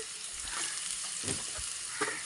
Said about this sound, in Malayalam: വെളിച്ചെണ്ണ അങ്ങോട്ട് ചൂടായിട്ട് ചെറിയ ഉള്ളി നല്ലോണം അങ്ങോട്ട് മൂപ്പിക്കുക